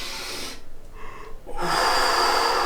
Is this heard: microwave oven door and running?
no